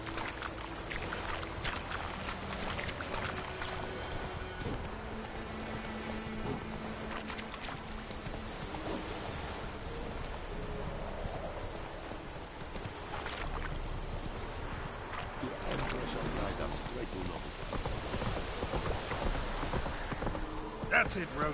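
Hooves of the horse Roach clip-clopping in a video game, a steady rhythmic walking gait heard under ambient game sound, with a voice talking over it at times.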